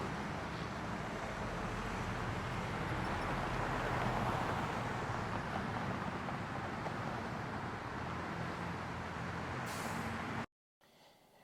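Steady city car traffic fills a rainy urban scene, a broad continuous rumble and wash of passing vehicles at a moderate distance, with a brief cut near the end.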